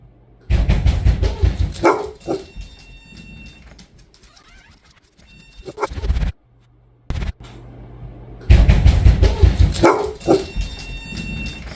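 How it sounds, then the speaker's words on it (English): Timber, a dog wearing a Koguzl bark collar, lets out several loud close barks in two bursts separated by quieter stretches with faint bird calls. "as soon as Timber barked, the collar responded as it should"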